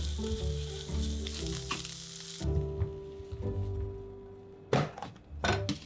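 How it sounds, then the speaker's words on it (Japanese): Vegetables stir-fry in a frying pan, a loud steady sizzle broken by a few scraping stirs and clunks of the utensil, with no voices. "しんなりするまでフライパンで炒めます"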